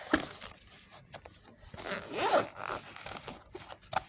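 Adhesive tape being pulled off its roll while decorating a pencil case, with several quick ripping bursts and scrapes close by, one longer pull near the middle, in a quiet room with no talking.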